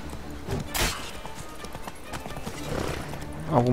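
Galloping horse in The Witcher 3: Wild Hunt, quick rhythmic hoofbeats with a sharp impact early on and a rising neigh at the end, set against game background sound.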